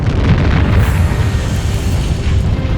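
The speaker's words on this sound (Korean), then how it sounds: "첫 폭발이 일어나고 잠시 뒤 거대한 폭발이 일어났다." Mount Vesuvius erupts over Pompeii, a massive volcanic explosion rendered as a loud, continuous deep rumbling roar that fills the whole stretch without a break.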